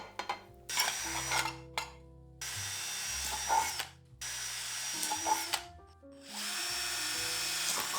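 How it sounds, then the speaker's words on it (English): A power drill whirs in several bursts, pausing between them, with a metallic grinding edge as the bit drills holes through a thin tin can. "I used a drill to make the holes in the side"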